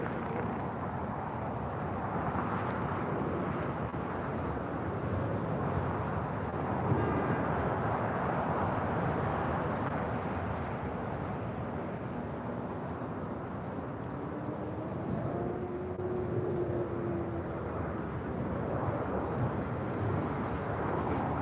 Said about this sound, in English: Looks like SAS A330 heading to the north side for arrival.